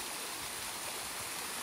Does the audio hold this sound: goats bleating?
no